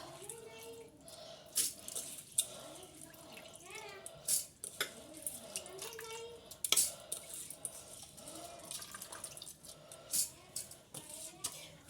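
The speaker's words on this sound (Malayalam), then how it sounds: "ഞാൻ അരി കഴുകി വരാം" Rice is washed in water in a home kitchen, with splashing, swishing and dripping in short bursts and occasional clinks of a vessel, and a voice speaking quietly at times.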